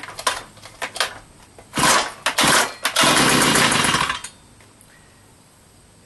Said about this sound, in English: grab the starter handle and pull the starter over in short,